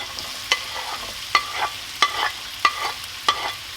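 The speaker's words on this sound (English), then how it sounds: "And now we add in the bacon, onion and celery." Bacon, onion and celery frying in melted butter, a soft sizzle broken by regular sharp scrapes and taps of a utensil against the pan, roughly one every half second, close and clear with no talking.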